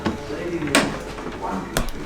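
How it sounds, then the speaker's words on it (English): A door in a small cabin room aboard a ship knocks shut with a couple of sharp wooden thuds, about a second apart, while people talk nearby. "Closed the door."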